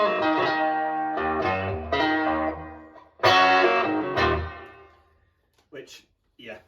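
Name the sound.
plate reverb on Line 6 Spider IV amp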